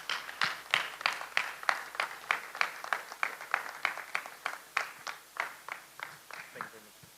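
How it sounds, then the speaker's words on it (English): Rhythmic clapping from an audience at a corporate insurance celebration event in Nigeria, regular claps repeating about three times a second and holding steady throughout. "Another round of applause, please."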